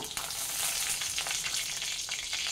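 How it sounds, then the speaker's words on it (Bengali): Two bay leaves and two dried red chillies frying in two tablespoons of hot white oil, a dense, steady sizzle with a few brief stirring swells, close and continuous. "তেজপাতা আর শুকনো লঙ্কাটা একটু হালকা ভাজা হবে"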